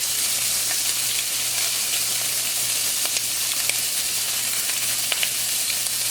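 Seasonings stirred into a sizzling pot of homemade gumbo, a steady close frying crackle with faint scrapes of the spoon and a low hum underneath, no voices.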